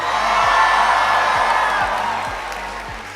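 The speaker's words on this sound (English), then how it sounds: "Thank you for your applause." A live audience at the end of a Vietnamese music show applauds and cheers, with whoops and a sustained crowd roar that gradually fades, heard fairly loud and close.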